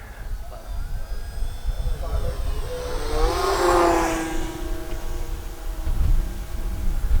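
An E-flite T-28B Trojan RC model airplane with a 1.1 m wingspan makes a low pass down the runway on a sunny day. Its engine whine rises as it approaches, peaks close by around mid-clip, then drops away under steady background noise.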